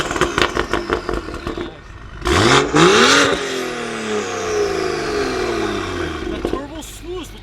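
A BMW M235i fitted with a VRSF downpipe revs hard with rising and falling engine sweeps, turbo spool and crackling exhaust pops, loud and close, with someone talking excitedly around it.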